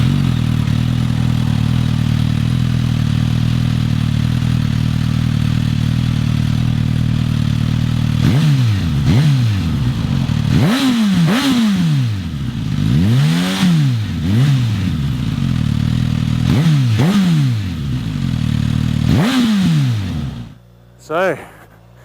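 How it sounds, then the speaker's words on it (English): A Suzuki GSX-S1000 motorcycle with the K5-derived engine idles steadily, then is revved repeatedly in a string of sharp blips that rise and fall, recorded up close before cutting off at the end. "I'm going to try and take a sound clip of this bike and give you guys a feel for what this"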